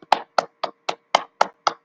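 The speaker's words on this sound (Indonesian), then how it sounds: "beri tepuk tangan untuk kelompoknya Habibi" Classroom applause for a student group: seven crisp, evenly spaced claps ring out in a steady rhythm, close and fairly loud, with no talking over them.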